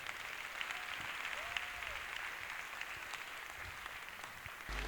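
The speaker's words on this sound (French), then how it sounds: "notre papy, Monseigneur Paul Dakouri Tablé, et je voudrais que vous l'applaudissiez très fort." An audience applauding loudly in honour of a bishop at a canonical installation ceremony in Yaoundé, a steady, dense patter of many hands heard from some distance, with a faint voice or tone briefly rising above it.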